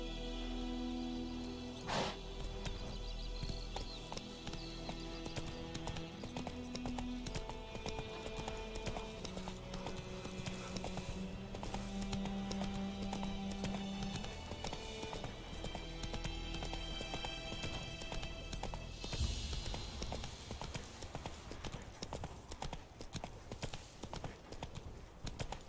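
Horse galloping in The Witcher 3, a continuous rapid clip-clop of hooves, fairly quiet, with game music tones layered over it and no talk.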